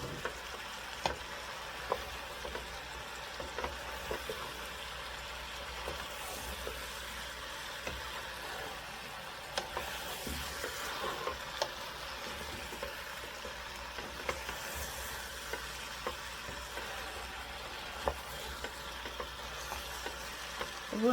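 Sweet potatoes and pumpkin cook in a pot with a soft steady sizzle and bubbling, punctuated by faint scraping clicks of stirring throughout; fairly quiet and uninterrupted.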